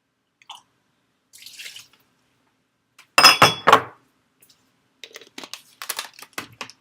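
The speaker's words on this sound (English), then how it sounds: "So let's add our fourth of cup of water." Cold water poured into an oatmeal cookie dough mixture, with a few soft clinks and drips followed by one louder splashing pour. Brief clattering bits of mixing come later.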